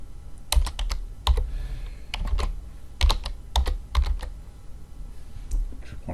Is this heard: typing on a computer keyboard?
yes